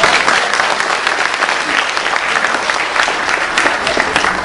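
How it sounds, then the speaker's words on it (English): Loud, dense applause from a large audience at a youth leadership summit in Dhaka, a continuous roar of clapping that fills the hall without pause. "Judging by your applause, I think I got that somewhat right."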